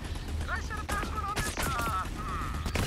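Rapid gunfire in Borderlands 3, a continuous rattling stream of shots over game effects, while a player talks throughout.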